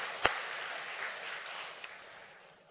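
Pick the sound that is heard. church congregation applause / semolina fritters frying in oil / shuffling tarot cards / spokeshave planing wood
church congregation applause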